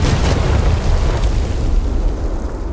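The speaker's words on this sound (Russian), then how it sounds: "Нахрена в скалу выстрелил" In the vehicle combat game Crossout, a weapon shot strikes a rock, producing a loud, continuous rumbling boom that fills the clip with no voices over it.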